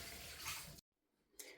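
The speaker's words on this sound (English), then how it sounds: "I'm just going to pour this dirty water" Dirty water from cleaning 2011 Nike Air Max Torch running shoes is poured out in a short, steady splashing rush that cuts off abruptly, followed by quiet and a brief final splash.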